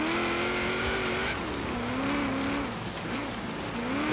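Drift car in a racing video game: a high, wavering engine tone rises and falls steadily with a squealing tire edge, loud and continuous, without talk.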